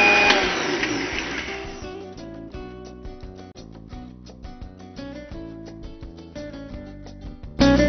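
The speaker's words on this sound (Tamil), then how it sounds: "ரோஸ்ட் ஆன பின் மிக்சியில் சேர்த்து பவுடர் மாதிரி அரைத்து கொள்ளவும்." A mixer grinder whirs loudly grinding roasted horse gram lentils into powder, starting with a harsh high grind that settles into a steadier churning rumble, then surges again at the end.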